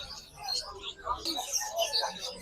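Budgies at the Malabon pet market chirp and tweet in quick, overlapping bursts close by, with a busy market murmur around them.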